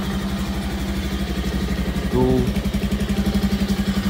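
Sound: motorcycle engine idling

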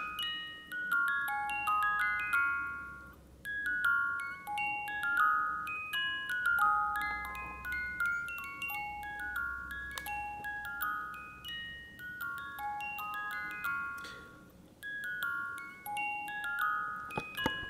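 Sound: musical alarm wristwatch playing melody

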